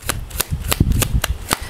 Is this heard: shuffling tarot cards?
yes